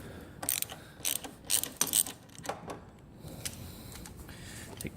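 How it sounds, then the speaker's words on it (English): A hand ratchet turns a 10 mm metric socket on a cap screw on a John Deere X585 lawn tractor during a fuel filter replacement, giving quick bursts of close clicking with short pauses between strokes. "Take your ratchet off."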